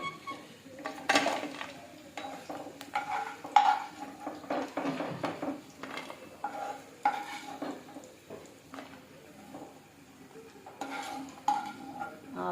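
Fried chicken pieces for a spicy pickle are lifted out of a pan, with repeated metallic clinks and scrapes of a utensil against the pan over a faint sizzle, close and intermittent.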